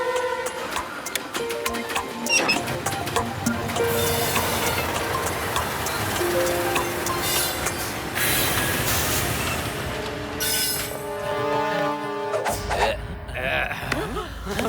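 A train rolling into a station, a loud continuous rumble of wheels and carriages with squealing metallic tones and hiss building and fading over several seconds.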